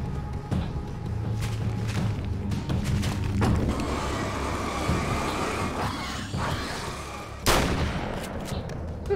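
Gunfire and explosions in Alan Wake's American Nightmare, a survival action game, come as repeated loud shots and bursts over a rumbling mix, ending with one sharp, heavy blast.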